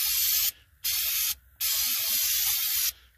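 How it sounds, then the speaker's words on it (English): Carbon choke cleaner sprayed onto a rear axle in three loud hissing bursts separated by short pauses, close up and with no talk. "I'm going to get some of this carbon choke cleaner"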